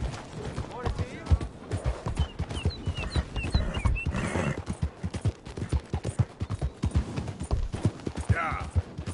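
Horse hooves gallop in a steady, rapid clip-clop rhythm in Red Dead Redemption 2, loud and close, with a brief whinny partway through and a voice speaking over the hoofbeats.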